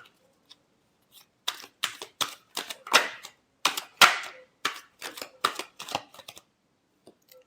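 Tarot cards are shuffled in a rapid series of crisp, close riffles and snaps, arriving in uneven bursts after a brief quiet start.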